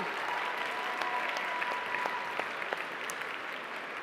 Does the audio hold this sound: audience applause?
yes